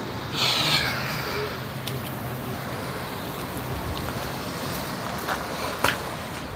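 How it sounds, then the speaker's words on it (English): Wind blows outdoors as a steady, broad rushing roar buffeting the microphone. It stays loud and constant, with a few brief gusts and faint knocks. "Windy."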